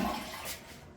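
A toilet flushes briefly, a short faint rush of draining water that fades within about a second.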